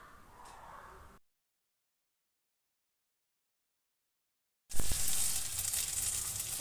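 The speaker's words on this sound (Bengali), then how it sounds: "সময় নিয়ে লো ফ্লেমে রেখে এভাবে মুচমুচে করে ভেজে নিচ্ছি কিন্তু" Cabbage parcels stuffed with shrimp frying on low flame: a brief gentle sizzle, then a gap of quiet, then a louder dense crackling fry close by.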